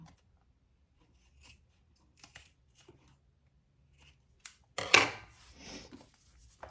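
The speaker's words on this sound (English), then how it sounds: "I'm going to cut off my extra zipper tape here" Scissors snipping through zipper tape on a handmade pencil pouch, a few faint clicks followed by one sharp, close crunching cut and light rustling afterward.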